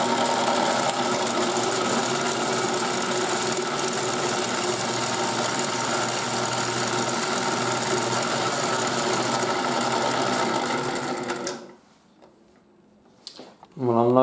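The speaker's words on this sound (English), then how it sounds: "It makes a nice sound though, the motor." The motor of a 1980s Nikko Mighty Washer toy washing machine hums and whirs steadily and loudly up close, then cuts off abruptly near the end, leaving near silence before a brief sound at the close.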